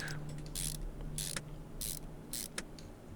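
Brake pads and calipers snap into place in Car Mechanic Simulator 2021 during a 1996 Chevrolet Camaro repair, heard as four quick, crisp mechanical clicks in a steady rhythm over a soft background hum.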